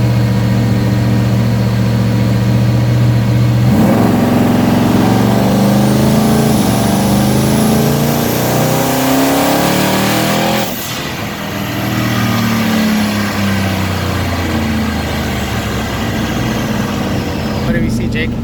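A twin-turbo Coyote V8 swapped into a 1993 Cobra runs on E85 and revs hard on a dyno, a loud, sustained engine roar climbing in pitch. It dips briefly, then holds near full volume again.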